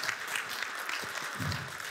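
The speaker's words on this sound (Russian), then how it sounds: "чуть-чуть менее жидкие аплодисменты, пожалуйста" Audience applause after a technical talk on Kotlin DSL at a conference, a moderate, steady patter of clapping hands from a room of listeners, continuous for the whole two seconds with no voices.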